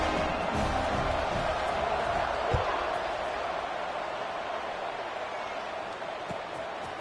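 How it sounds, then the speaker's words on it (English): A football stadium crowd buzzes steadily after a score, a broad, even roar of many distant voices filling the air, with a faint thump partway through. "this crowd is buzzing after that last score"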